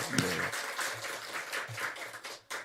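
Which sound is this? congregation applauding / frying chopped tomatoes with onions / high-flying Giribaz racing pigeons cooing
congregation applauding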